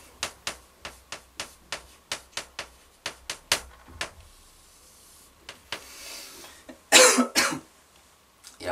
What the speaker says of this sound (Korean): 영상을 찍으려니까 갑자기 기침이 나와서